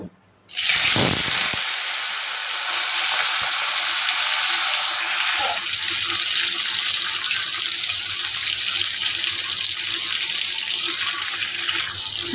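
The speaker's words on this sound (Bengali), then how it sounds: "এবার মাছটা ভেজে নেব" Rupchanda fish frying in hot oil, a loud steady hiss and sizzle that starts abruptly and runs continuously, close up, with no talk.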